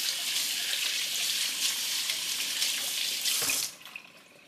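Kitchen tap running steadily as fingers and vegetables are rinsed at the sink during dinner prep, a loud continuous splashing hiss that stops abruptly near the end, leaving quieter room tone.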